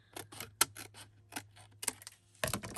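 Scissors cut through paper card for ephemera, a quiet, close series of crisp snips in an uneven rhythm, with a final burst of cuts at the end.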